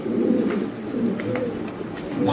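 Low, soft cooing of a male Spanish Pouter pigeon repeating over a steady background hum, with faint clicks and rustles nearby.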